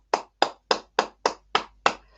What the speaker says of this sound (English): I'm applauding you.